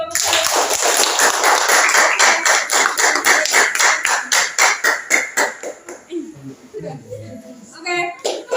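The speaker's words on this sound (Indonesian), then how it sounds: "Berikan aplaus dulu untuk kelompok" A classroom audience claps for a presenting student group, a steady rhythmic run of loud, evenly spaced claps that slows and thins out toward the end, with some voices mixed in.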